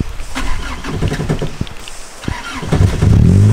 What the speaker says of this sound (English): We got exhaust knock.